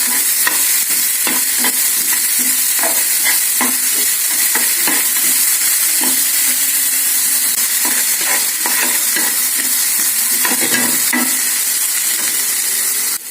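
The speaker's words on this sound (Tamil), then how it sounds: "நறுக்கின கேரட்டையும் அதில் போடுறேன். கொஞ்சம் வதங்கட்டும்." Carrot and capsicum sizzle loudly in a hot pan, with a constant frying hiss and repeated scraping clicks of stirring throughout.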